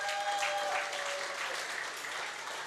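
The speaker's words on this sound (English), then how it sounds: "as they come to the stage, you will applaud for them" An audience at the St. Lucia Manufacturers Association Quality Awards 2018 claps as companies come to the stage, a steady crowd ovation with a faint tonal hum underneath.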